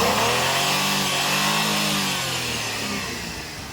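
A 2011 Maruti Suzuki K series car engine revved up close, with a loud sustained rising and falling drone that eases off toward the end.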